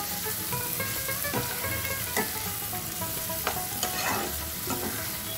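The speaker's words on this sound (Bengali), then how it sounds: "এরপর আমি এর মধ্যে গোবিন্দভোগ চাল 100 গ্রাম আমি দিয়ে মশলাটার সাথে একটু কষিয়ে নেব।" Gobindobhog rice is stir-fried into a cooked spice paste in a pan, producing a dense steady sizzle with repeated scraping and clinking of a spatula, close and with no talking.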